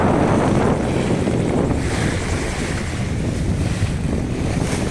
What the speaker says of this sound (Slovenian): Ti mi lepo reže valove